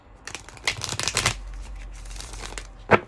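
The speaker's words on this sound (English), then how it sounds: "I'll just shuffle one more time." Tarot cards shuffled by hand in bursts of riffling and sliding, a long dense flurry then a pause and a final short snap, close and fairly quiet.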